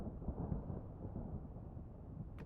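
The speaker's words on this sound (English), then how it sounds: "It's thundering with no rain." Low, continuous rumbling thunder rolls through a Vintage Story game world with no rain falling, a broad deep roar holding steady at a soft level throughout.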